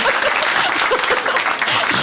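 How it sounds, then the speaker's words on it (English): Audience applause in a room after a talk, a steady wash of many hands clapping for about two seconds with a little voice mixed in. "you're allowed to clap, I feel like"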